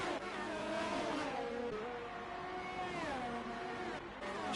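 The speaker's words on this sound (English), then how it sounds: "That was a Red Bull car." A Red Bull Formula 1 car in an F1 racing video game passes by at high revs, the engine note climbing and then sliding down in pitch as it goes past. Another engine swells in near the end.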